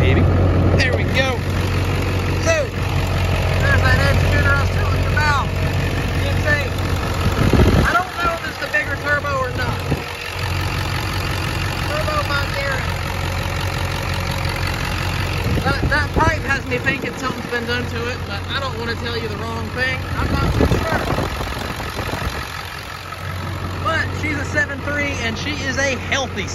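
A 2001 Ford F250 Lariat pickup with a 7.3 diesel engine, fitted with an aftermarket intake and exhaust, idles with the hood open in a steady, loud, low rumble, while a person talks over it.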